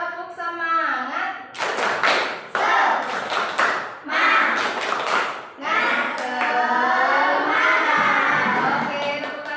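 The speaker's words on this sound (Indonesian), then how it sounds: "kita akan melakukan ice breaking dulu, yaitu ice breaking tepuk semangat" A class of children doing the tepuk semangat rhythmic clapping game, with bursts of sharp hand claps in patterned groups mixed with children's chanting voices throughout.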